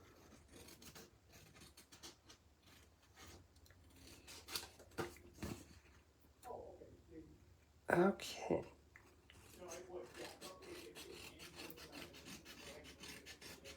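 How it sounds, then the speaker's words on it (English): Paper being trimmed along its edge sounds as quiet rubbing and rasping strokes with a few sharper scrapes, close and faint, around a brief spoken word. "Okay, so let's trim off the edge here."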